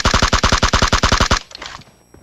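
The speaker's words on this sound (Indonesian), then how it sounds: "Besar ono tembakan" Rapid automatic gunfire from a battle royale video game: about fourteen loud, evenly spaced shots in a quick burst, then a softer tail of distant shots and faint rattle.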